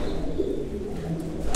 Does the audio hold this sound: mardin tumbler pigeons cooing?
yes